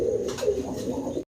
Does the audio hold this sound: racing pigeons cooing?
yes